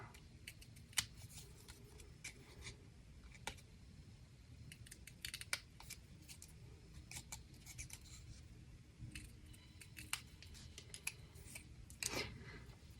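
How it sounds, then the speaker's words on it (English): Paper snips cutting through card stock to free a flower shape for a spring card, a string of sharp, close, quiet snips and crisp clicks, sparse at first and then bunching together near the end, with no talking. "we are actually going to take our paper snips and I want to cut out the middle flower."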